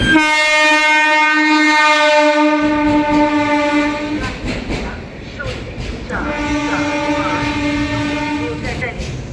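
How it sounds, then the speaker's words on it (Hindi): Kushinagar Express rolling through Govindpuri station without stopping, a loud sustained horn blast followed by rumbling wheels and clatter, then a second horn sounding close by. "कुशीनगर एक्सप्रेस गोविंदपुरी से निकल रही है बिना रुके।"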